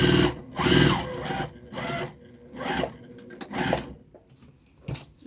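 A sewing machine stitching a flannel infinity scarf runs in several short bursts of rapid, close mechanical whirring, with brief pauses between runs.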